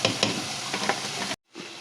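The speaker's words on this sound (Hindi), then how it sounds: "हमने ये प्याज इस वाले पॉट में डाल दिए ताकि ये ब्राउन हो जाए" Sliced onions frying for Punjabi yakhni pulao in a pot over low heat, a steady close sizzle with a few stirring scrapes, cutting out abruptly near the end before the frying hiss resumes.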